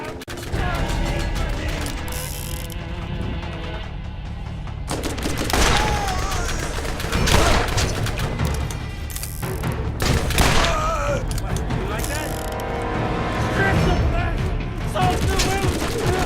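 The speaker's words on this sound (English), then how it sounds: "Fire machine gun, or is it a fire SMG?" A fire machine gun blazes in the video game Borderlands, steady rapid automatic shooting punctuated by sharp impact bursts and crashes, loud and continuous throughout, with occasional talk mixed in.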